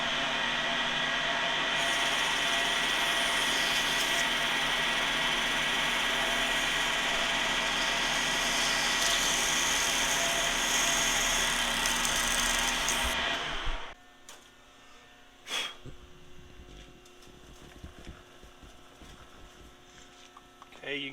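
A machine tool cuts a UHMW plastic bushing with a loud, steady, droning whine that runs continuously, then cuts off abruptly and gives way to quieter scattered clunks and mechanical ticks.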